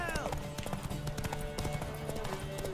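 In The Witcher 3: Wild Hunt, a horse gallops during a race, its hoofbeats a steady, rhythmic clip-clop under game music and a voice speaking over it.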